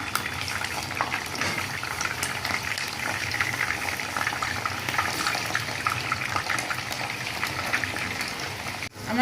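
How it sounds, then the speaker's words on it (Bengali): Chitol fish muitha fries in a pan with a dense, continuous hiss and bubbling crackle, steady and close throughout, with no talking. "মুঠাটি আমি এখন আবার ভাজবো।"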